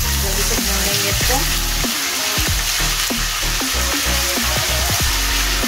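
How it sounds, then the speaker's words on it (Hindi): Garlic paste fries in about half a cup of hot oil with a loud, continuous sizzle, while a tonal background sound runs underneath. "लहसुन की पेस्ट जल्दी से भून लेंगे इसको।"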